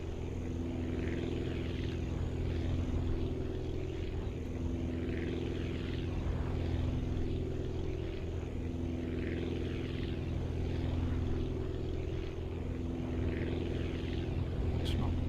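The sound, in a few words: propeller aircraft engine in video game Aviassembly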